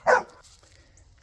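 A dog in a Florida garden lets out one sharp, close bark, then the sound drops off to quiet outdoor background.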